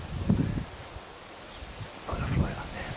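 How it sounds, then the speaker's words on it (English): Gusty wind rustles through garden foliage in two soft surges, a steady outdoor hiss beneath brief bits of nearby voice. "And the wind's blowing."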